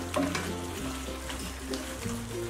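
Dragon chicken sauce with ketchup sizzles in a pan over a high flame, a steady close frying hiss with a low hum underneath and no talking.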